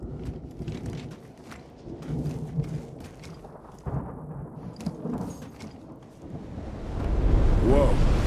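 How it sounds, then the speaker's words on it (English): Deep rumbling thunder from a surge storm in a video game, running as a low, steady roar that swells louder near the end, with a voice speaking over the first part. "Whoa, that's a hell of a surge storm."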